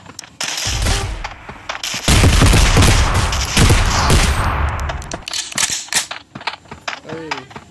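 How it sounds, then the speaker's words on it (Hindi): Loud, dense bursts of automatic gunfire from the mobile shooter FAUG, firing on its own without a button press, rattling almost continuously for several seconds before thinning into scattered shots. "बटन नहीं है, ऐसे ही फायर हो जा रहा है।"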